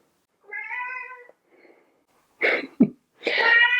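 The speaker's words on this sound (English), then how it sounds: "My cat is back." A house cat meows nearby: a drawn-out tonal meow, a faint short sound, then a sneeze- or cough-like burst and another long harmonic meow, all loud and close in a quiet room without talk.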